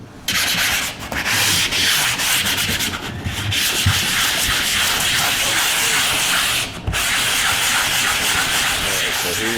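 Drywall mud is sanded with continuous rough, hissing strokes close by, broken by a few brief pauses as the sander shifts position, with no voices.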